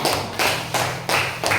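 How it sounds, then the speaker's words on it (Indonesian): Schoolchildren in a classroom clapping hands, four loud bursts of clapping at a regular rhythm, close and fairly sharp. "Kasih dulu tepuk tangan"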